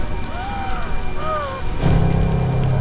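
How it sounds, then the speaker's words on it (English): Rain falls steadily in a film scene, a constant hiss with a few gliding tones over it, then a low rumbling hum swells in partway through. "obviously it's raining"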